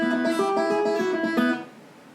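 A guitar rips through an open string lick at full speed, a quick cascade of picked notes ringing together before cutting off and leaving a short decay.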